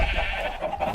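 Sheep bleat in the Minecraft world inside an animal enclosure, a short, wavering bleat heard at moderate volume over a steady background hum.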